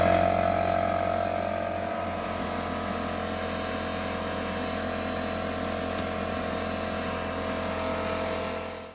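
A leaking tubeless snowblower tire is inflated with a steady, droning mechanical hum that runs unbroken and fairly loud for the whole stretch, with no talking.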